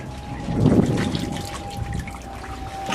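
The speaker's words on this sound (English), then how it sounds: "it's the coolant coming out of the car." Coolant trickling and dribbling out of a 1999 Mercury Mystique 2.0L four-cylinder during a water pump and timing belt job, a faint, steady liquid patter close by with a thin whine underneath.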